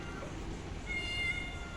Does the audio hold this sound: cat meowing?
yes